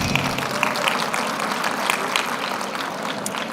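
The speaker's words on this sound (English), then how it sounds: "So, yes, you can clap for that one" Audience at an early childhood education conference claps steadily for about three and a half seconds, a dense wash of many hands at moderate, even volume with no voices over it.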